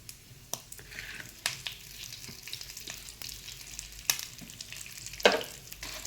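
Spices and curry leaves roast in a pan for vangi bath powder, with a low dry sizzle under frequent sharp stirring clinks and scrapes, close and fairly quiet, with one louder rattle near the end.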